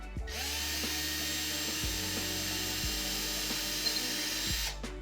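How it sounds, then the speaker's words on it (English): A power drill whirs continuously at close range, drilling holes in sheetrock, its motor pitch stepping down a few times as it bites into the material. "drill some holes in there and put in the sheetrock screws into here"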